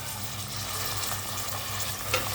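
Onions frying in a pan as tomatoes go in, a steady close sizzle with faint stirring scrapes and one small clatter near the end, no voices.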